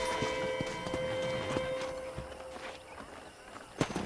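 Horse hooves clip-clop at a walking pace through Red Dead Redemption's ranch setting, steady and fairly close over a busy, layered game soundscape with a brief sharp knock near the end.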